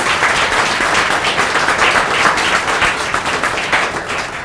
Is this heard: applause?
yes